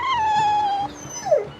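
Dog in the video game Tales of Berseria letting out a long whining howl, then a brief falling whimper, close and clear with no talk.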